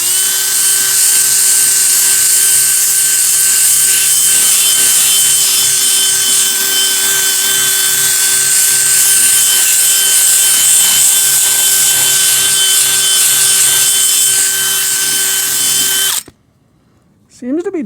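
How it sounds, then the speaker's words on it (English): A handheld drill runs sideways across an animal hide to strip off fuzz, giving a loud, steady high-pitched whine with rubbing grit that continues unbroken, then cuts off abruptly near the end. "So I'm running the drill sideways."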